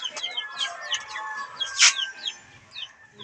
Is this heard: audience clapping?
no